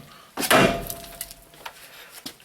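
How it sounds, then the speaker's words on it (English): A big hammer strikes a ball joint on a 2002 Chevy 2500HD with one loud, ringing metallic blow, followed by a few faint clinks and knocks close by. "the method I do is with the big old hammer."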